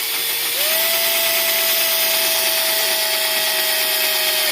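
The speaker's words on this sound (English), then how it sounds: "My drill sounds like it's getting ready to die." A worn-out power drill whirs steadily and loudly, its motor pitch stepping up shortly after starting and holding a strained, rattly whine until it cuts off.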